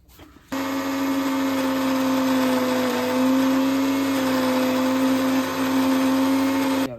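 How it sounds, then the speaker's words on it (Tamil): An electric mixer grinder grinding green masala kicks on after a brief pause and whirs steadily at high speed, a loud continuous motor whine. "இது எல்லாத்தையும் போட்டு மிக்ஸி நல்லா அரைச்சி எடுத்திங்கன்னா க்ரீன் கலரில் வரும்"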